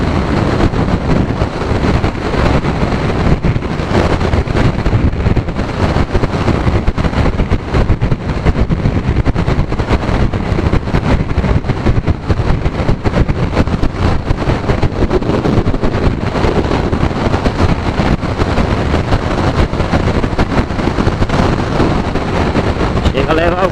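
Strong wind buffeting a rider on a Kawasaki Z900 motorcycle, a loud continuous roar of rushing air through the whole ride, with no speech heard.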